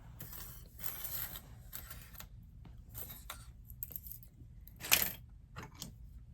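A sewing machine stitches a tote bag in short bursts of fast mechanical whirring and clicking, separated by pauses, with one louder clack partway through.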